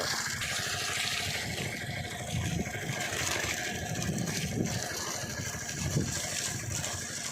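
Water poured into the soil at the base of a coconut sapling makes a steady, continuous gushing and splashing that runs unbroken throughout at moderate level, with no talking.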